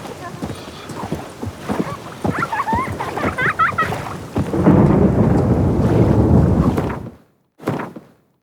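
Rain and a thunderstorm in The Witcher 3 roll in as a deep, building rumble that swells loud for a few seconds, with hoof clops and game sounds before it and a sudden cut near the end.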